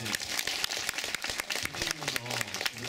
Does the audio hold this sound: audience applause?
yes